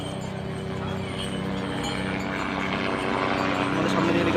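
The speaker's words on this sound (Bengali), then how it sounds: "আমাদের সামনে হেলিকপ্টার নিয়ে যাচ্ছে।" A helicopter flies along the Kedarnath route under cloudy mountain skies, a steady droning rotor hum that grows slightly louder toward the end, heard at a moderate distance beneath a faint voice.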